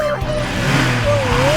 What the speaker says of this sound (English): monster trucks are built for short, high-powered bursts of speed